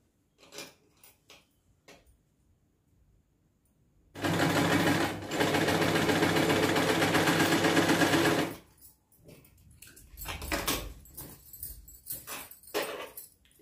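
Sewing machine stitching a blouse along a marked line runs in one steady, loud mechanical whir for about four seconds, framed by quieter handling clicks and fabric rustles before and after.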